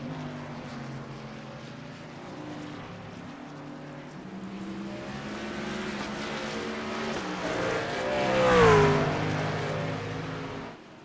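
Racing trucks roar past on an oval during a truck series night race, a steady engine drone building to a loud close pass with a pitch-dropping whine near the end, then fading.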